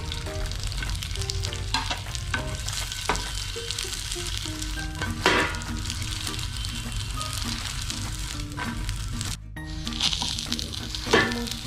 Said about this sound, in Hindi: चलो उनको पैन फ्राई कर लेते हैं